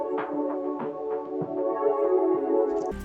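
A warm synth pad plays a sustained chord melody through the free Magic Switch chorus plugin, giving a slightly widened, shimmering tone, steady and close with rhythmic note attacks, in an emotional Afro beats production, with no voices.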